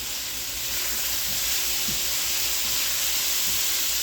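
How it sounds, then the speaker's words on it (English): Cajun chicken browns in a pan over medium-high heat, giving a steady, even sizzle and hiss with faint pops throughout, and no one speaking. "So right now we're browning this up."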